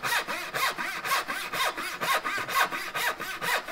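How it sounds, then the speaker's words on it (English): A crosscut saw cuts into the end grain of a piece of wood. About eight loud, evenly spaced rasping strokes sound close up and alone. "Now I'm going to take a crosscut saw and try to make the same cut with it."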